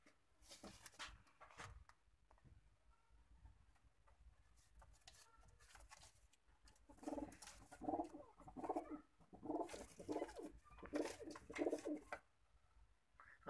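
Pigeons coo softly in repeated low, throaty calls, growing denser toward the end, with faint rustling between.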